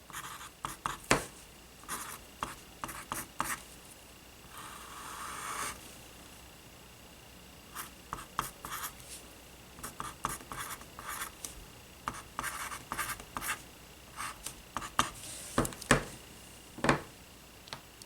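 A pen or marker squeaks and scratches across a board in short strokes and taps while math is being worked out, close and clear with pauses between bursts, no voice over it.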